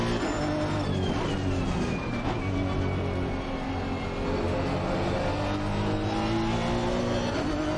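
A race car engine in the Assetto Corsa Competizione racing game on an American track revs and holds a loud, steady drone with shifting pitch. Faint tire noise sits under it and there is no talk.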